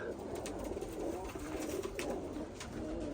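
Pigeons coo softly at a bird auction in Bursa, with low murmuring calls blending into a busy indoor background hum over a few seconds.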